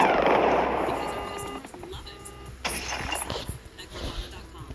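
Rapid gunfire and impacts during an airship battle in a video game, a dense burst of crackling shots and bangs that thins into scattered hits, loud and close.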